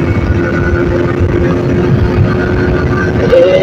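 A Yamaha R15M version 4 Monster Edition motorcycle runs at top speed. Its engine gives a loud, sustained drone mixed with heavy wind rush, with a slight pitch rise near the end.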